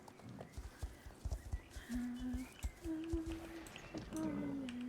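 Hooves clip-clop in the horse-riding video game Star Stable, a rhythmic trotting patter with a few tonal game sounds layered over it, fairly quiet.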